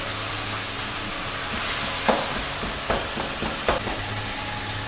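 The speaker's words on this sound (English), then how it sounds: "let the mince cook through a tad" Beef mince for a Portuguese South African spaghetti bolognese frying in a pan, a steady close sizzle with a few sharp scraping clacks of the spoon breaking up the meat, no talking.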